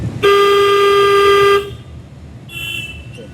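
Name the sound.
car horn honking during driving lesson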